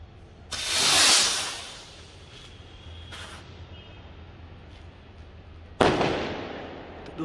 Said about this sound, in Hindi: अब है हमारे पास कॉक ब्रांड का लूनिक एक्सप्रेस रॉकेट